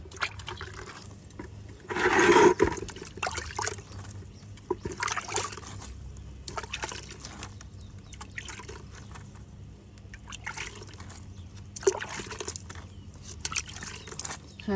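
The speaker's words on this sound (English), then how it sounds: "I'm watering the little trees that I got from Michelle." Water from a watering can trickles and drips onto small young trees on a homestead in Ghana, with a stronger splash near the start, then irregular soft patters and dribbles continuing throughout.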